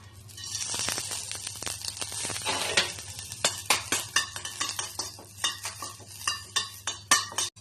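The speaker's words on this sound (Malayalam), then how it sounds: "എന്നിട്ട് കറിവേപ്പില ഒന്ന് മൂപ്പിച്ചെടുക്കാം." Curry leaves crackle and sputter in hot oil in a pan, with a spoon repeatedly stirring and scraping against the metal, producing rhythmic clinks over a soft sizzle.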